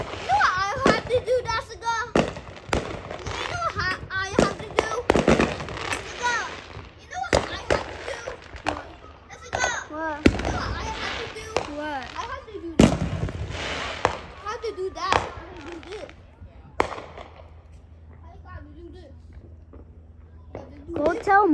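Fireworks crackle and bang on the Fourth of July 2024, a dense run of pops and bursts at close to middle distance while children chatter and shout throughout.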